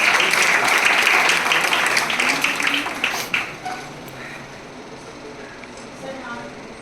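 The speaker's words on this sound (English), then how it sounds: "Big round of applause." Audience applause at a World Pharmacist Day ceremony, loud crowd clapping for the first few seconds that then thins and fades, leaving quieter room noise and scattered voices.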